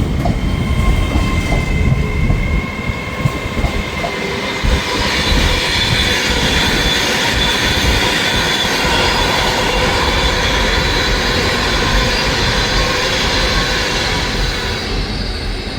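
Trains pass through Crewe station with a steady, loud rumble of wheels on rail and some high squealing from the wheels, sustained and close throughout with no talk.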